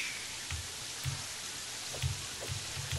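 Steady rain patters in the video game Terraria, a continuous soft hiss with a few low thumps and small drip sounds over three seconds, no talk.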